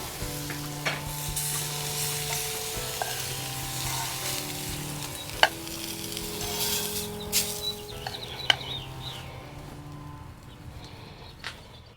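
Tuna steaks sizzle steadily on a flat top griddle set over an outdoor firepit, a continuous frying hiss with a few sharp clicks and scrapes of a spatula along the way.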